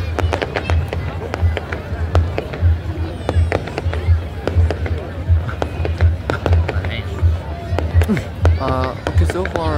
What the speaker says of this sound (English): I want to let you all listen to the sound effects of the fireworks.